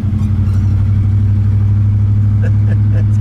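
A 1956 Chevrolet Bel Air two-door post runs along the road with a steady, low engine rumble throughout, near and loud, while a voice talks briefly over it.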